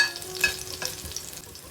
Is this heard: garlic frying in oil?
yes